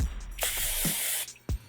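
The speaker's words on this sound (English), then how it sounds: "Take some hairspray." Hairspray hisses from an aerosol can onto a Halloween wig in one steady, close, loud burst of about a second, followed by a few brief bumps and rustles.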